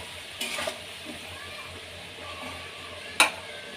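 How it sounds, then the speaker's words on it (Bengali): Katla fish roe fries in oil with a low continuous sizzle, broken by a couple of brief spatula scrapes and a sharp clink against the pan. "ডিমগুলো এইভাবে ভেজে নেবেন।"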